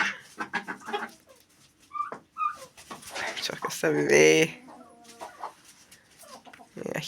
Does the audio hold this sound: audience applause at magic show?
no